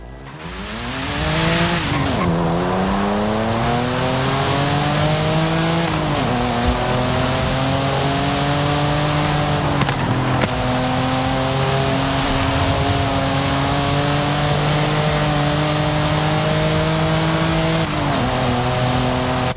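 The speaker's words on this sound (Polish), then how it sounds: "I mamy Nissan Z z 23 roku. Posłuchajmy, jak on brzmi w ogóle" Nissan Z 2023 in the video game Forza Horizon 5, engine revving loudly and climbing through gears with rising pitch and several sharp shift drops, tire squeal mixed in, continuous and up close with no talk.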